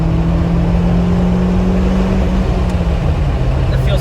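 A 1988 BMW E30 M3 engine drones steadily from inside the car while driving, a constant low hum with faint road noise and no distinct revs.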